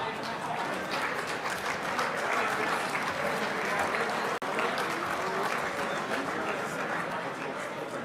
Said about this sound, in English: another big round of applause for those youngsters